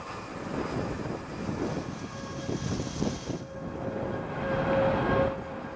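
A ULA Vulcan VC4S rocket lifts off from Cape Canaveral, Florida, its roar a sustained, heavy rumble that is loud and constant, heard from a distance with no talk.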